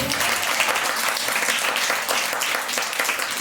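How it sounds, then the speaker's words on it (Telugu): Loud, sustained applause from a large church congregation clapping together, dense and steady throughout with no break. "కానీ యేసయ్య లేచాడు, సమకూర్చోమని గట్టి చప్పట్లు కొట్టు."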